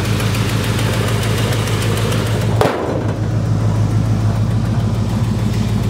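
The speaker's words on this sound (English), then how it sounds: "The 383 four-barrel engine." A 1971 Plymouth Roadrunner's 383 four-barrel V8 idles with a loud, steady, close rumble, briefly interrupted by a sharp click partway through.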